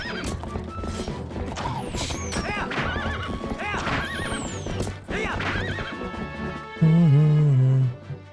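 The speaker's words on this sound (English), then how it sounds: "stop hitting my horse in the butt" A horse in Zelda: Twilight Princess on GameCube neighs and trots, rhythmic clip-clop hoofbeats with several whinnies, game music, and a loud low thud near the end; a player talks over parts of it.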